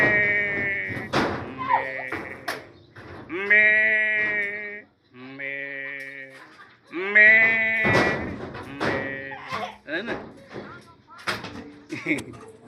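A human voice imitates a sheep, producing a series of drawn-out, wavering bleats with short pauses between them, loud and close, with some thumps and other voices around the calls.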